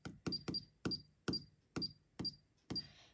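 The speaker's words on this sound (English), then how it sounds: "That's why you hear that little beeping as I change that." Eight short electronic beeps from a computerized sewing machine, each with a sharp click, spaced unevenly as stitch settings are adjusted, close and clear with no talking.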